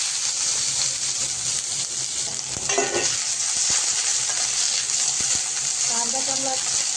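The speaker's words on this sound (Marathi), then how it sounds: "आता आपण त्याच्यामध्ये कांदा फ्राय करायला टाकू." Onions hiss and crackle in hot oil in a kadhai for a spicy Puneri misal, a steady bright sizzle with occasional spoon scrapes and clinks, and no talking.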